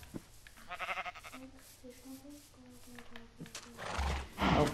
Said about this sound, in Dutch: Hé, we hebben paarden.